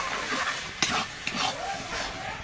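A spoon is stirred through lau chingri, bottle gourd and shrimp with water in a pan, making soft, faint scraping and a light sizzle, with a couple of sharper clinks in a brief, quiet stretch.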